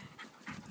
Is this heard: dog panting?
yes